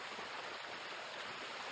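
Steady rushing water at the top of a waterfall at Bells Rapids, a continuous broadband roar, fairly faint and even, with no voices.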